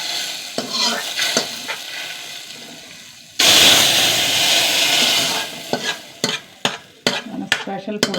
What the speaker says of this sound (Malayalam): കുറച്ച് വെളിച്ചെണ്ണ ഒഴിച്ച് കൊടുക്കുക. എണ്ണ നന്നായി ചൂടാവട്ടെ. കടുകിട്ട് കൊടുക്കുക.